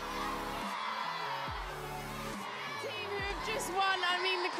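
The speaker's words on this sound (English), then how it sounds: "I mean, the crowd are going insane." Crowd roars and cheers wildly right after a women's five-a-side football final, the dense wall of noise close and constant throughout, with voices and shouts mixed in.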